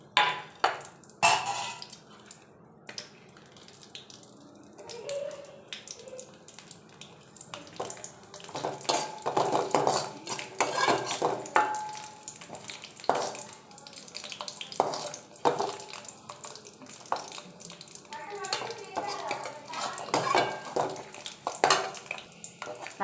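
Garlic, dried red chillies and tamarind sautéing in oil for a ridge gourd thuvaiyal, with intermittent sizzling and repeated scraping stirs of a spoon in the pan over a long stretch.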